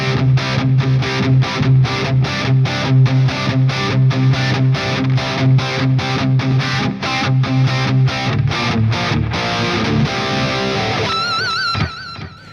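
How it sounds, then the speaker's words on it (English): An electric guitar plays a distorted lead tone with delay through a Universal Audio UAFX ANTI 1992 high-gain amp pedal: loud, fast chugging repeated notes for about nine seconds, then sustained ringing notes with echoing delay tails fading out. "Then we have a distortion or lead or whatever sound plus delay for some things."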